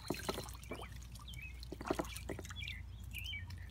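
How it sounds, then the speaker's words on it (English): Light splashing and dribbling water from ducks paddling nearby, soft irregular splashes with faint bird sounds and quiet background. "getting splashed by ducks"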